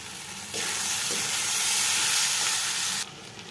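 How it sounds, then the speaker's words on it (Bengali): Onion with turmeric and chili powder is stirred in a pan for a Pakistani chicken curry, a loud hissing sizzle that surges in suddenly, holds for a few seconds, then drops back to a lower background. "সবগুলো উপকরণ এখন আমি ভালো করে নেড়ে চেড়ে মিশিয়ে নেব"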